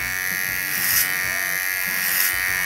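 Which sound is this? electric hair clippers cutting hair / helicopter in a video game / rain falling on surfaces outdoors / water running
electric hair clippers cutting hair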